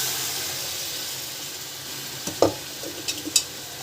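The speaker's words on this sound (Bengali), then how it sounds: "তো এবার এর মধ্যে সেদ্ধ মটরগুলো দিয়ে দিচ্ছি।" Boiled peas drop into a sizzling fried spice paste: a steady hiss at first, then a few close, sharp clatters and scrapes as they land and get stirred in, with no one talking.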